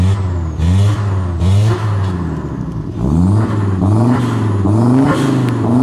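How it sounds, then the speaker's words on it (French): A Porsche 991 GT3 engine warms up nearby. It revs in a series of sharp rising and falling blips over a loud, continuous idle, with no voices. "Alors il y a la Porsche qui chauffe à côté"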